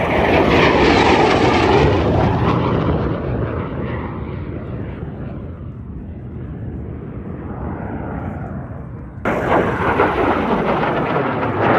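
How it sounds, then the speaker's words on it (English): A fixed-wing aircraft makes a high-speed pass at the AERO Gatineau-Ottawa airshow, a loud engine roar that swells and then fades through the middle as it goes by, before a second loud, close roar cuts in near the end. "High-speed pass."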